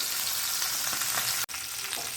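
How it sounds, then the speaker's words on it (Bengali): Singi fish frying in oil in a pan, a dense, even, close hiss of sizzling oil with a single sharp click partway through and no speech. "মাছগুলো ভালো করে প্রথমে ভেজে তুলে রাখবো।"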